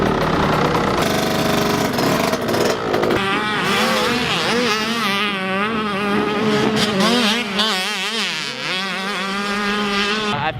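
Motocross bike engine revving and shifting through gears on a race-day practice lap at a track, loud and continuous with rising and falling pitch as the rider accelerates, no talking.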